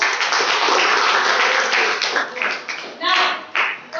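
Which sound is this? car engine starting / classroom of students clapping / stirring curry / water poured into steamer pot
classroom of students clapping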